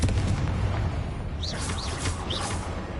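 Repeated Confringo fire-spell blasts in Hogwarts Legacy, a run of booming explosive bursts over a dense rumbling game mix, with a few sharp whooshing zips partway through; no talk.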